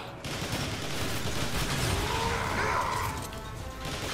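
Sustained cover gunfire rattles through a battle in Transformers: War for Cybertron, a dense continuous barrage of shots and crashes with no clear gaps, loud and close throughout.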